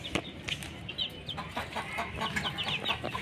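Small young hens bought as chicks and raised at home, clucking in short, irregular bursts at close range, with some rustling and a faint wing flutter, and no talk.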